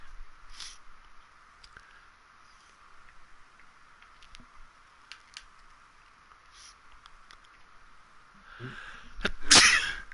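A single loud sneeze bursts out near the end after a stretch of quiet background hiss and faint clicks.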